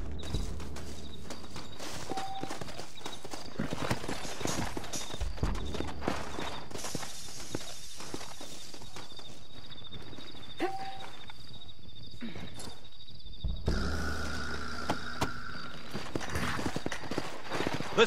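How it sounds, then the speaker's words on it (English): Horse hooves clop steadily in Red Dead Redemption on Xbox 360, over a busy game soundscape with rumbling and ambient tones and no speech. "Looks like Carlos left us some horses."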